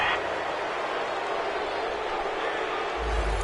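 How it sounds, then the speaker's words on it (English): Steady roar of a home stadium crowd reacting to a penalty call in a football video game, a dense continuous wash of cheering noise held at an even level throughout, with no distinct voices standing out. "This home crowd, they're happy with that call."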